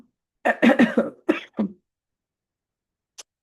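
A cluster of several harsh coughs in quick succession, close and fairly loud, then silence with a faint click at the end.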